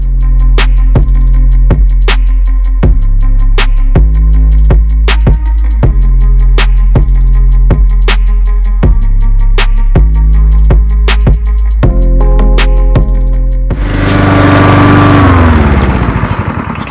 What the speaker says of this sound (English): Okay, whatever, let's mow this.